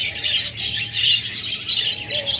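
A crowd of budgerigars, cockatiels and lovebirds in a bird shop chirps and twitters in a dense high-pitched chorus close by.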